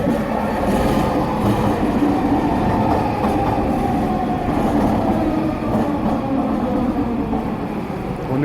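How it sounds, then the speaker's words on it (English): A train rolls past close by with a steady heavy rumble and faint clickety-clack of wheels, loud and continuous throughout. "Here comes the train, Grace."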